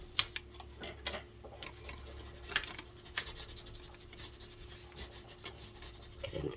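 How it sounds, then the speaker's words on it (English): Paper being burnished down onto a handmade 4-in-1 album box, a soft close rubbing and scraping with a few light taps, steady and quiet with no talking. "get in and burnish it down"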